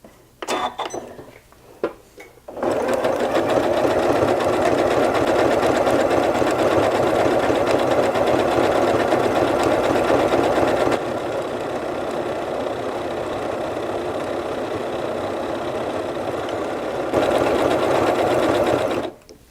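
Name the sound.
sewing machine stitching decorative stitch D33 without stabilizer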